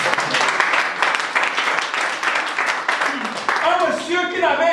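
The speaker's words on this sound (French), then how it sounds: "Acclamons le Seigneur" A church congregation claps steadily and loudly in acclaim of the Lord for several seconds, with voices rising over the applause toward the end.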